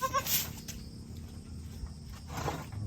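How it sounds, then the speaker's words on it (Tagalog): A goat bleats loudly and close up at the start, followed by a quieter second bleat near the end over faint outdoor background noise. "Ito yung kambing namin."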